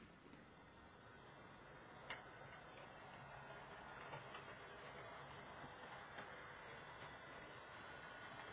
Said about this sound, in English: I'll get a train running on that light, on that line